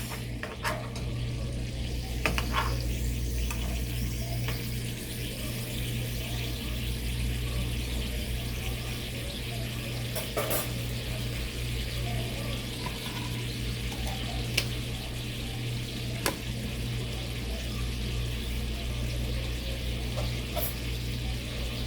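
Salmon steaks fry in a pan, producing a constant, moderately close sizzle over a low hum, with occasional faint clicks and squeaks.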